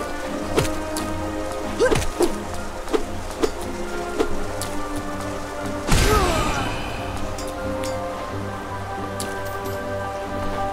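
Rain falls in the City of Tears in Hollow Knight, a steady patter over soft tonal music, with a louder crash-like swell around the middle before the downpour settles back into a constant hiss.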